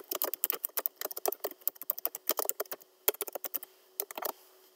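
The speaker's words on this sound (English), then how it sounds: "go back to my Type tool, highlight Creativity, and I'm going to type over this" Rapid, uneven keystrokes on a computer keyboard, close and crisp, in bursts with short pauses.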